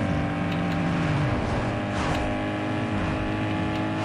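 Tofaş car engine racing in Need for Speed Underground 2, a loud continuous drone with shifting tones as the car accelerates, alone without talk.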